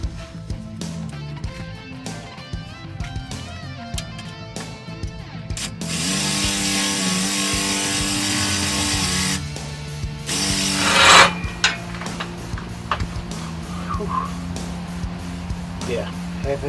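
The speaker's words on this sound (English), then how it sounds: "Hot metal comes down from this frame when you're drilling." Half-inch holes are drilled through a metal mudflap frame, the drill grinding in bursts with a long steady whine in the middle and scattered tool clatter and scraping around it.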